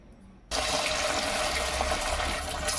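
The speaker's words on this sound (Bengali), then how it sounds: "তেলের মধ্যে আমি ছোট ছোট করে এবারে ফুলিগুলোকে ফেলে দেবো" Small pieces of dahi bora batter drop into hot white oil in a kadai and burst into a loud, steady, hissing sizzle after a brief quiet start.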